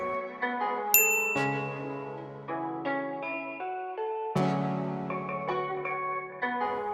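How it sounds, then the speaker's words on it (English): A Thai temple bell rings out bright metallic tones in a rising and falling sequence, each note chiming clearly and decaying, with no voices. "A ringing bell is believed to bring good luck in life."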